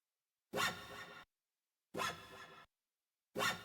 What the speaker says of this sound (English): this guitar harmonic slide kind of, I don't know what it's called, kind of like a fretboard type of sound